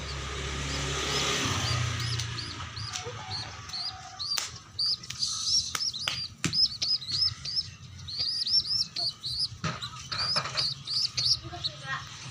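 Young pigeons give thin, high, repeated chirps at close range, rising in a busy cluster after a passing car fades, with a person talking softly underneath.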